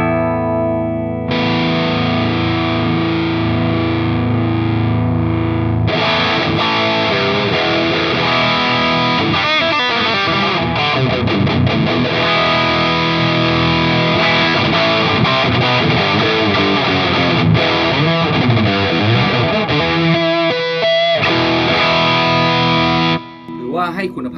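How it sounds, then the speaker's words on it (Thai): Heavily distorted electric guitar through a Tech 21 Richie Kotzen RK5 Fly Rig pedal's overdrive plays chords and riffs, with thick, crunchy tone sustained throughout, cutting off briefly near the end. "คราวนี้จะลองเปิดเอฟเฟคเสียงแตกของเขาแล้วว่าทำหน้าที่ยังไง"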